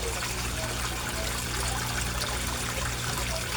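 An aquarium air pump runs in a koi fish tank, giving a dense, steady bubbling and trickling of water that holds at a constant level throughout, with no voices.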